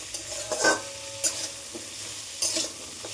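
Salted pointed gourd fries in white oil with a soft, steady sizzle, broken by a few brief stirring scrapes in the pan, close up and fairly quiet.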